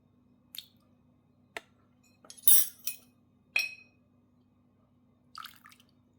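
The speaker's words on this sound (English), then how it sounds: "I tried mixing it with this spoon, but like, it ain't really working" Metal spoon clinking and scraping in a bowl while stirring a sauce of oyster sauce, chicken bouillon powder, dark soy sauce and water; a handful of quiet, sharp, irregular taps and clicks with pauses between, no talking.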